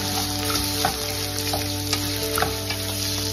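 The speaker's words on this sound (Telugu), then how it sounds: "లో ఫ్లేమ్లోనే ఫ్రై చేసుకోండి." Onions fry over a low flame in a pan for an Odia mixed vegetable dish, a steady soft sizzle with faint crackles and occasional stirring clicks, no voices.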